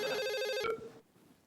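A phone ringtone plays a steady electronic melody for under a second, then cuts off abruptly, leaving a quiet room.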